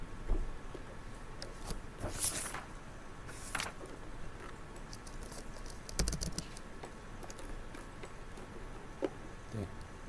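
Computer keyboard keys tapped in scattered clusters of copy and paste shortcut presses while modelling in Sim4Life simulation software, crisp close clicks separated by pauses over faint room noise.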